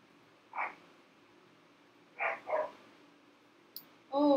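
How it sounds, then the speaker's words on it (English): A dog barks indoors, a few short, moderately distant barks spaced out over a quiet background, with a louder sound at the end. "Oh, Bruno is barking."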